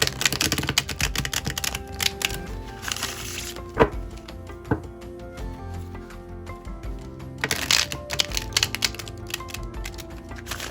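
Tarot cards being shuffled in rapid, papery bursts of riffling and tapping, with a few sharper knocks in between, close and fairly quiet.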